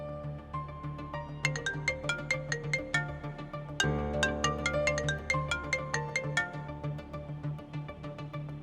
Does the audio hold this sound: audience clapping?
no